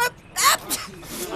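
A single sharp sneeze bursts out close and loud, followed by a brief voice responding.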